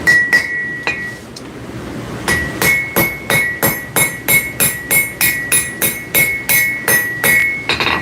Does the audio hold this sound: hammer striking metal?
yes